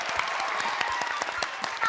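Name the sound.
applause for the children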